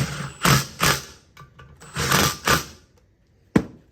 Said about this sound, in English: Put your nuts on the top. Same thing, just snug them up.